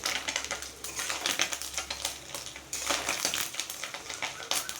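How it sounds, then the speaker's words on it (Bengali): Fish roe frying in a pan, with dense, irregular crackling and sharp popping spatters throughout, loud and close, some bursts stronger than others. "ডিমগুলো মানে মাছের ডিমটাও চলো ভেজে নিচ্ছি"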